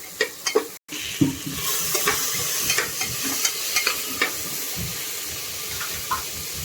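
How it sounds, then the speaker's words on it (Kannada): Ingredients fry in oil in a pan while a spoon stirs them, producing a continuous close sizzle broken by repeated sharp scraping knocks at an irregular rhythm. "ಇದನ್ನು ಫ್ರೈ ಮಾಡ್ತಾ ಬಿಡಿ ಒಂದು ಐದು ನಿಮಿಷ ನೀಟಾಗಿ ಚೆನ್ನಾಗಿ ಫ್ರೈ ಮಾಡ್ಕೊಳ್ಬೇಕು ಇದನ್ನು"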